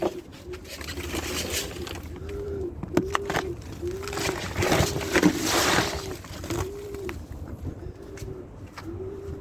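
Tumbler pigeons in a coop coo in a steady repeating series of soft, rounded calls, close by, with occasional rustling and light handling noises between them.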